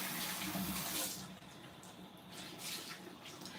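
Tap water runs into a sink while dishes are washed up, a loud steady gushing rush that eases and softens partway through, with no talk over it.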